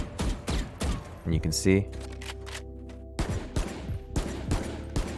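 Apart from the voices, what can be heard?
rifle gunfire from tapped shots in VALORANT video game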